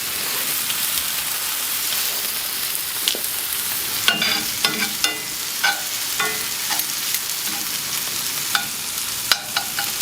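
A smash burger and onions fry on a flat-top griddle, giving a steady close hiss of sizzling fat with scattered crackles and scraping spatula taps.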